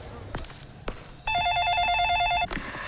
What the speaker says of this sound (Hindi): फोन को भी अब भी आना था।